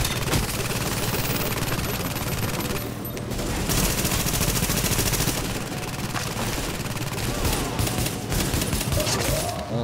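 A weapon hip-fired in The Division unleashes sustained rapid gunfire, loud, dense bursts that run nearly continuously with a brief lull partway through.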